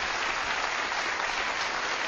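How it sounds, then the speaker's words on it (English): Studio audience at a live paranormal television broadcast breaks into steady, dense applause that holds at an even level throughout, with no voices over it. "Give him a round of applause as he heads out as well."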